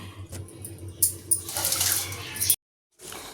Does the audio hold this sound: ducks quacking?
no